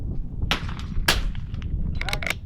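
Rifle shots at an NRL22 shooting match crack out nearby, two sharp reports with a few fainter pops, over outdoor background noise.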